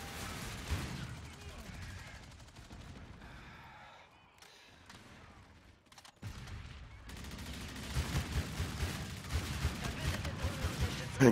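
Gunfire in a video game shooter, with dense bursts of shots and impacts that drop away into a brief near-quiet lull before heavy firing resumes, while voices talk over parts of it.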